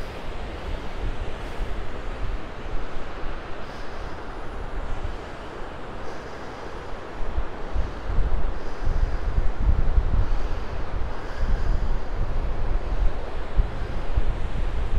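Ocean surf rolls in at Marina State Beach as a continuous roar of breaking waves, mixed with gusty wind buffeting the microphone, swelling louder in the second half.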